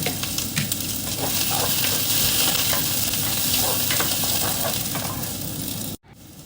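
Onion sautéing in a pan while cooking cabbage, giving a steady, close sizzle with scraping stir sounds throughout, then a sudden brief cut near the end; no one speaks.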